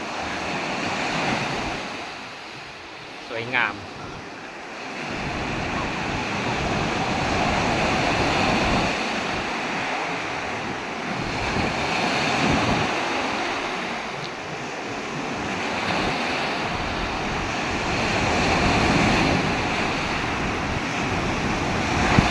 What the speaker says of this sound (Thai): บรรยากาศ ธรรมชาติคลื่นทะเลนะครับธรรมชาติสร้างสรรค์